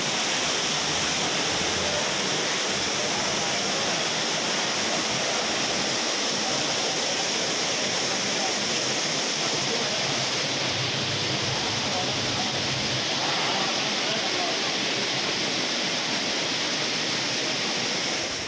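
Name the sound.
rushing floodwater torrent after heavy rain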